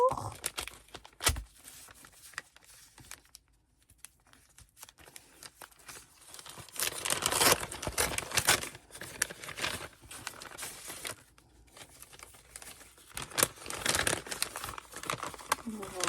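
A paper envelope from a scrapbooking advent calendar is torn open and its contents rummaged, bringing close bursts of crinkling and rustling paper separated by quieter pauses.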